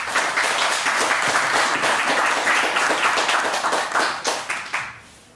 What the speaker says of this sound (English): please could we have a warm round of applause for Maharaj